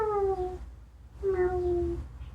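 A woman imitates a cat's meow with her voice, two drawn-out falling meows separated by a short pause, close and fairly soft.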